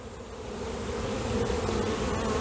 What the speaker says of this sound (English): Hear the bees? Kind of fun to hear them, isn't it?